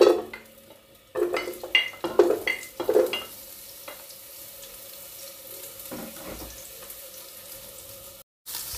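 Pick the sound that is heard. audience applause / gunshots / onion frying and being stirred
onion frying and being stirred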